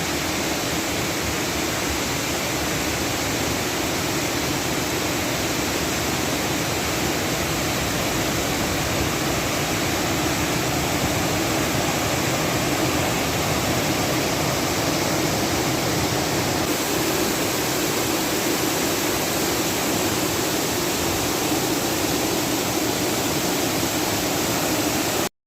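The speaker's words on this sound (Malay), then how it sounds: "kami pergi ke air terjun King Rama 9." The King Rama 9 waterfall in Betong, Thailand, roars as an unbroken, even rush of falling water. It stays constant and fairly loud for the whole stretch, with no voices.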